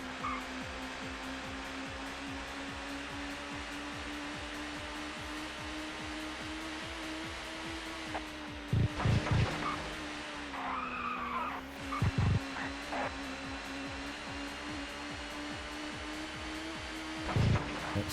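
Touring race cars, a Peugeot and a Vauxhall, run at Oulton Park in the ToCA Touring Car Championship, giving a steady engine drone with tire squeals and skidding bursts around nine, twelve and seventeen seconds.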